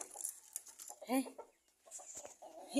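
A very large broiler chicken, said to weigh 18 to 20 kg, clucks a few short times in a yard. The clucks are faint, mixed with quiet household noise and a voice.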